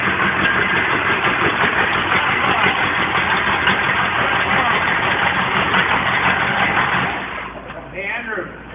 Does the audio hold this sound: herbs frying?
no